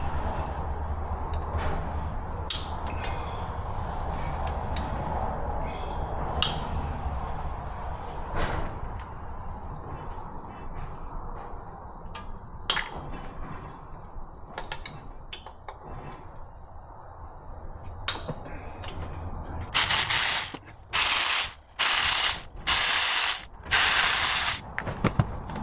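A hand ratchet works on the oil separator bolts of a Land Rover Discovery 4 3.0 V6, giving scattered clicks and mechanical rattles, then bursts of rapid loud ratcheting near the end.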